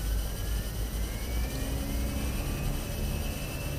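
Fenix A320 jet engines at takeoff thrust in Microsoft Flight Simulator produce a loud, steady roar with a thin rising whine spooling upward, continuous and unbroken with no talking.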